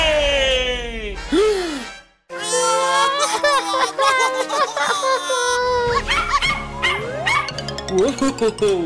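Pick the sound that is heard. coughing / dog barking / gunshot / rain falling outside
dog barking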